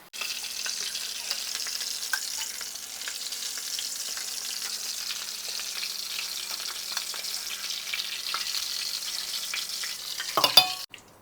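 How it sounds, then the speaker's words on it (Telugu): Bread rolls deep fry in oil over a low flame, giving a steady, even bubbling sizzle with faint crackles throughout and a brief clatter near the end, with no talk. "డీప్ ఫ్రై చేసేసుకుంటే సరిపోతుంది."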